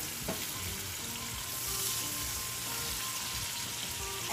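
Spice masala cooking in a covered pan over medium-low flame, a soft steady hiss with faint bubbling, quiet and continuous with no voices.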